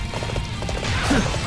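Horse hooves clip-clopping at a gallop in the battlefield video game Dynasty Warriors 8, a steady rhythmic pounding under game noise, with a brief whinny near the end.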